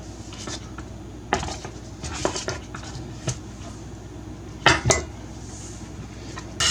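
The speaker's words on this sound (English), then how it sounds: "Now we're going to add the last cup of flour." Flour being mixed into bread stick dough in a bowl, heard as scattered clinks and knocks of a utensil against the bowl with soft squishing between them, close and irregular.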